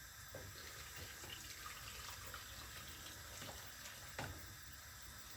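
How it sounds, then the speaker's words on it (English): Hot water pours over canned ackee in a kitchen sink strainer, a faint, steady splashing trickle with a few small clinks. "I normally pour hot water over it"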